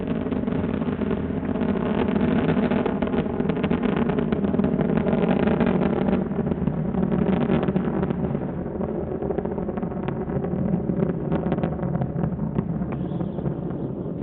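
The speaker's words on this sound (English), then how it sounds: "Three engines now throttling down as Endeavour passes through the area of maximum dynamic pressure on the vehicle in the lower atmosphere." Space Shuttle Endeavour's three main engines roar during launch ascent on the STS-134 mission, a loud, steady, rumbling blast sustained throughout with slight swells and no talking.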